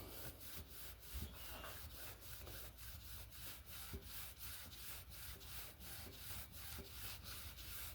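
A crankshaft from a 383 engine rebuild is polished by hand, giving steady, rhythmic rubbing strokes about three per second, close and continuous with no talking.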